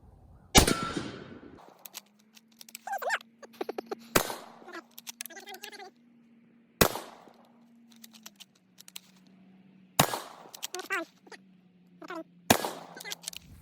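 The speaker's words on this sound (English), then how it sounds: "this ridiculous Mosin, and I'm just gonna put some rounds in each one" A Mosin rifle fires rounds into armor plates at an outdoor range: about six sharp, loud cracks at irregular intervals over a low steady hum, with faint clatter and brief voices in between.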